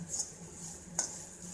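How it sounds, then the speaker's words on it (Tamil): Masala roasting in a pan for curry is stirred with a metal spoon until it browns, giving two quick, close clinks of the spoon against the pan over a soft, steady frying hiss, with no talk. "அதனால் முடிஞ்ச வரைக்கும் நம்ம விடாமல் இந்த மாதிரி கிண்டிகிட்டே இருப்போம்."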